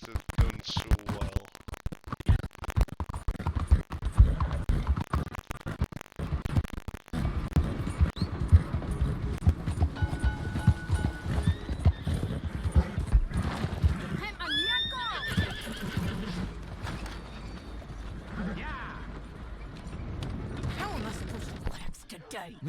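A horse in a video game whinnies and clip-clops as its rider mounts, with creaks and mechanical rattles around it and someone talking over much of the action.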